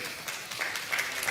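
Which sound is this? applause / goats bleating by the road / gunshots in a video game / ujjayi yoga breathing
applause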